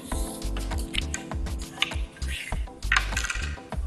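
Paper crinkles and creases close up as a square sheet, white with a pattern on one side, is folded corner to corner for an origami crane, giving dense crisp rustles and small taps.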